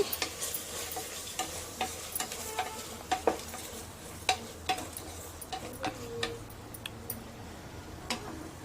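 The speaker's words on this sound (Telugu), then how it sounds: "1 స్పూన్ సాల్ట్, 1 స్పూన్ పసుపు వేసుకొని ఒకసారి కలుపుకోవాలి" A spoon stirs paneer biryani masala with salt and turmeric in a pan, giving a steady run of soft scrapes and sharp ticks over a faint sizzle, close by with no voices.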